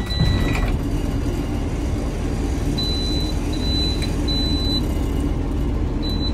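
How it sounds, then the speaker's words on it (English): A school bus engine starts and settles into a steady, loud low idle rumble, with short high-pitched warning beeps repeating from the dashboard over it. "We'll start the vehicle up."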